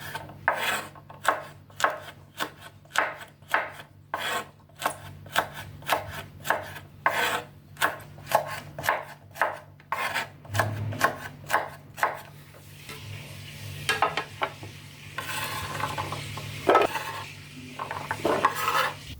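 Green beans are cut into pieces with a knife on a cutting board, a steady run of sharp close chops for about twelve seconds, then softer scraping and shuffling of the cut pieces.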